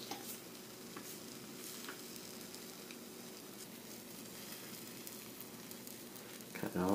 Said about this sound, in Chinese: 还得再煎， 还得再煎上。